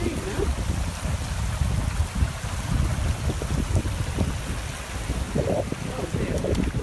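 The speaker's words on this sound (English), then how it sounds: "Across this stream now." A mountain stream in the Lake District rushes steadily over stones on a walk from Seathwaite, with broadband water noise close by and wind blowing across the microphone.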